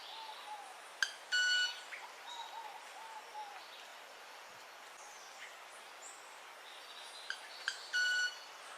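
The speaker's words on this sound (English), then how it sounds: "What that sound actually is that bird beating its wings together at a rate" A manakin makes its mechanical wing-beat display, a faint buzzy tone heard in two short bursts with sharp snaps before them, set against a quiet forest background.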